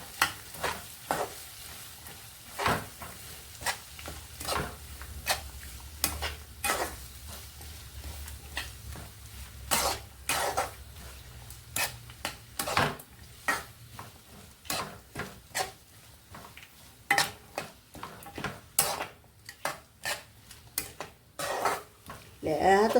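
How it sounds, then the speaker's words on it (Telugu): Bottle gourd pieces go into a pan for a Telugu milk-based ridge gourd and bottle gourd curry, with a clatter of spoon and pan, stirring scrapes and a soft sizzle in repeated sharp bursts, close and moderately loud, without talk. "ముందు సొరకాయ ముక్కలు వేసుకుందామండి."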